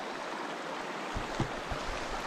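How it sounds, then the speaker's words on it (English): Water flowing around the legs while wading midstream across a creek on a fly fishing trip, a steady broadband rush with a few low sloshing surges, close and continuous. "Getting ready to cross the creek."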